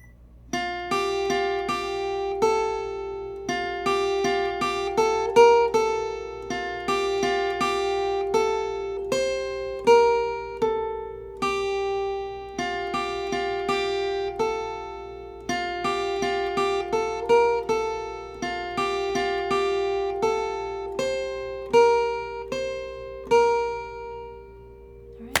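Acoustic guitar plays the solo tab line from a song as a beginner-style picked melody over a steady rhythm part, bright repeated notes sounding close and continuous for about twenty-five seconds with no voice.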